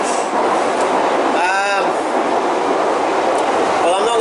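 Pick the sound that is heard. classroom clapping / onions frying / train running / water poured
train running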